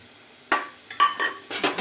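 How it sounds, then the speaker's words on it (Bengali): A spoon stirs ground mustard and green chili paste into a simmering egg curry in a pan, giving a few short, close scraping and clinking strokes in quick succession. "ভালো করে নাড়িয়ে দেবো"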